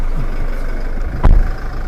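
A stock Toyota Revo 2.4 Entry pickup with manual transmission runs at a steady, close idle, a loud low rumble with one brief thump near the end.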